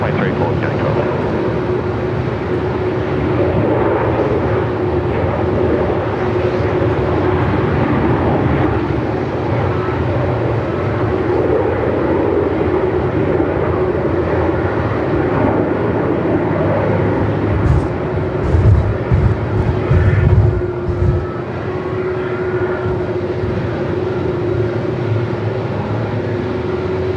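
Aircraft engines rumbling at Melbourne Airport on runway 34 in 45-knot winds, a loud continuous roar with a steady droning tone, wind buffeting and air traffic control radio voices talking over it.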